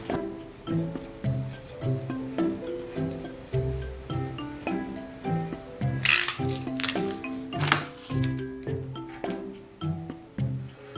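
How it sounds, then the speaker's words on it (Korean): Repeated snipping and crinkling of scissors cutting masking tape into curves, a steady run of short close cuts with soft rustling between them. "마스킹 테이프를 좀 곡선으로 잘라줘야 돼서"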